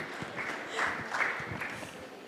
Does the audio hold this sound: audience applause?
yes